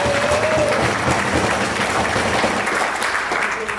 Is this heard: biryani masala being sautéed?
no